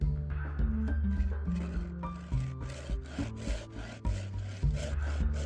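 A hand saw rasps back and forth through wood in a steady rhythm of close, scratchy strokes, the blade sometimes skipping before it bites into the cut.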